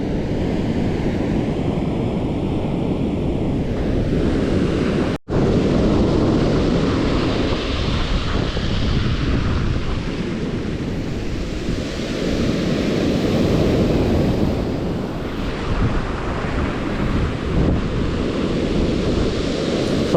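Big surf breaking on a sea bass fishing beach, a steady loud wash of rolling waves with wind buffeting the microphone, one brief dropout midway, no voices.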